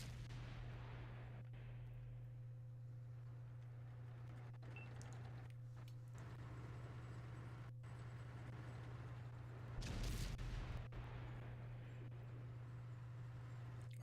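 A single muffled cannon blast booms mid-match in a tank video game, standing out once over a steady low engine hum and quiet background.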